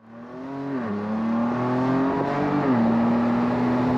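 A Ford Bronco Raptor in sports mode accelerates hard on a race track, its engine note climbing steadily with brief dips at gear shifts, loud and close from inside the cabin, no voices.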